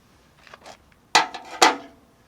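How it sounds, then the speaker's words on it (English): A 15 mm wrench tightens a nut on a John Deere 318 lawn tractor, giving a few faint metallic clicks followed by two louder, sharp clanks of tool on metal, close by with no talk. "So theoretically I should be able to tighten that nut up just a little bit. This is a 15 millimeter wrench."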